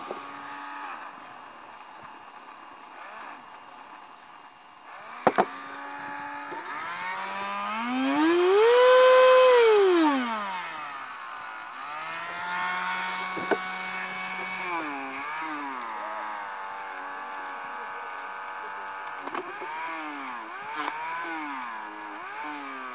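A rotary tool spins a felt polishing wheel mounted on a bolt holder, its motor whine rising and falling in pitch as it speeds up and slows, swelling loudest near the middle, with a few sharp clicks and no talking.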